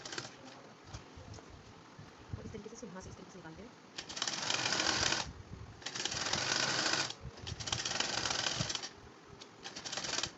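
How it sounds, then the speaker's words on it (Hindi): A sewing machine stitches a pocket on satin palazzo pants in three rapid rattling bursts, each lasting a second or more with short pauses between, while a voice talks quietly before and between the runs. "फोल्ड करने के बाद ऊपर एक और सिलाई लगा लेनी है इसको पक्की करके"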